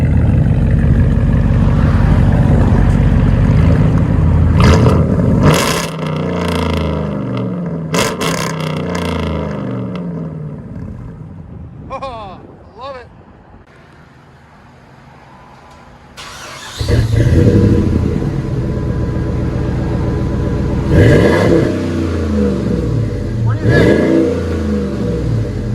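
A loud Dodge Ram 5.7 HEMI V8 exhaust roars and revs repeatedly, dropping to a low idle midway before blipping up again with sharp throttle bursts.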